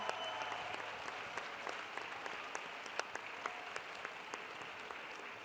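An audience keeps up steady applause for Mathilde Larère at a festival comedy stage show, a dense field of many hands clapping at even loudness with a few sharper claps standing out, no voices over it.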